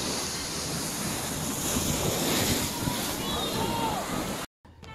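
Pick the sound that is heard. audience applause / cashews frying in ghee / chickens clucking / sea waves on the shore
sea waves on the shore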